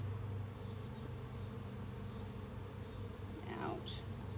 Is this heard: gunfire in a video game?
no